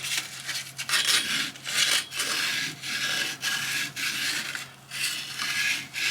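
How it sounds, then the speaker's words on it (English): Hand sanding the edge of a copper pipe with 400 grit sandpaper makes close, rhythmic rasping strokes, several quick back-and-forth passes with brief pauses between them. "This is a 400 grit sandpaper, and I still like hitting that edge with that."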